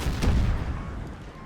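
In Napoleon Total War, an artillery battery fires a single sharp cannon boom that rolls into a lingering low rumble, heavy and fairly close, with no voices over it.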